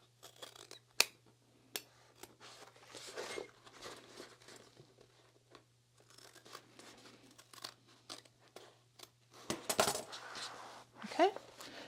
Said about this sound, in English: I might trim down these bottom seams just a little bit.